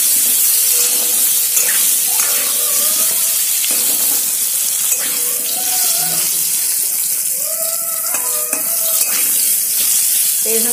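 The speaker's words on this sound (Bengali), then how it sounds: "আলুগুলোর মধ্যে আমি সামান্য একটু হলুদ আর সামান্য একটু লবণ দিয়ে দিলাম, ভাজা হতে হতে আলুগুলো সেদ্ধ হবে।" Potato pieces with turmeric and salt frying in hot oil give a steady, loud sizzle throughout, broken by occasional stirring scrapes and clinks close by.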